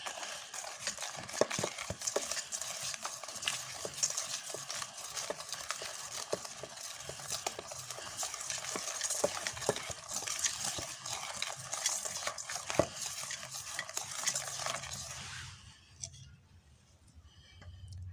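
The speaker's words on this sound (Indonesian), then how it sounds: "Kita aduk sampai rata." Cake batter for a sponge cake is stirred with flour until smooth, a steady scraping, whisking rhythm of utensil against bowl that runs close and continuous for most of the stretch, then stops near the end, leaving quiet room tone.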